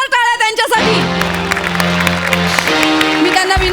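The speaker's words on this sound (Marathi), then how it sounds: "एकदा जोरदार टाळ्या त्यांच्यासाठी." Applause and cheering from a studio audience at a Marathi comedy stage show's award presentation, steady throughout and mixed with loud music.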